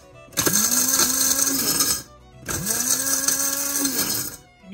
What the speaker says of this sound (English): And you put it in your spice grinder and then you pulse it.